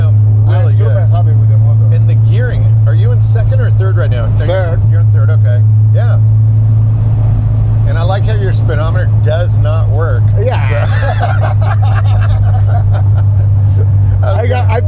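Air-cooled engine of a 1956 VW Airstream-style camper hums steadily and loudly throughout while driving in traffic, a constant low drone under frequent nearby conversation.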